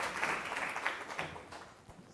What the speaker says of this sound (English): let's give another applause to the both specialists.